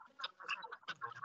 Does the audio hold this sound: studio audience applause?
no